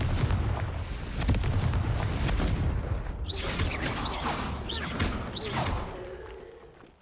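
Confringo fire spell blasts in the Hogwarts Legacy video game: a dense, loud barrage of booming explosive bursts, followed by several sharp whooshing, crackling impacts in a row, with a busy battle bed throughout.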